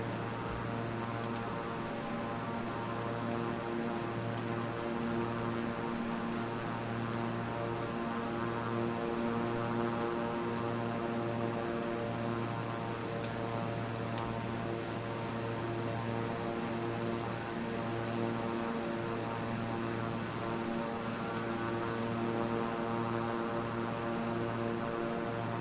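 A propeller airplane engine in flight in a flight simulator game, droning steadily with a constant tonal hum and a faint whine that holds unchanged throughout, fairly quiet, with no talk.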